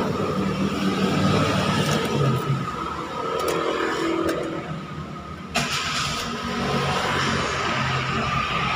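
A Kia Picanto automatic with a reverse-gear engagement fault idles close by at night, a steady mid-pitched engine hum broken by a sharp knock as it shifts into reverse, then settling back to a running idle.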